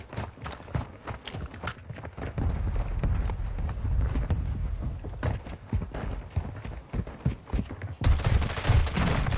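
Gunfire in the video game Warzone 2: loud, close bursts of rapid shots cracking in quick clusters with short gaps, then a denser, louder volley near the end.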